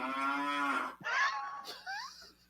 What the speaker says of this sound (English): That's my cow talking.